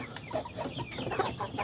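KUB chickens clucking close by, a run of short irregular clucks and murmurs over a faint background hum.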